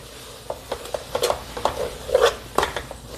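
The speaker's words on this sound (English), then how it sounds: "Stir it well" A spoon stirs a coconut and gulkand modak mixture in a pan, producing soft, close scraping strokes in an uneven rhythm with a light sizzling bed underneath.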